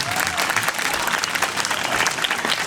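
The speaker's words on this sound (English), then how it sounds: "let's give our volunteers out here a nice round of applause." A festival crowd at a Native American festival applauds volunteers, steady loud clapping from many hands sustained throughout with a faint crowd murmur underneath.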